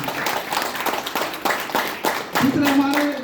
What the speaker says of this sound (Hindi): आप सभी चाहूंगा उनका जोरदार ताली से स्वागत करें